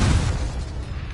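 Short, heavy burst of the Confringo blasting spell in Hogwarts Legacy, a dense close explosion with a thick low thump that barely decays.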